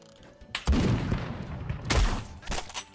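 Several bursts of gunfire in the Roblox shooter Phantom Forces, loud and close, with a heavy burst near the start, another about two seconds in and a shorter one at the end, over a steady noisy background.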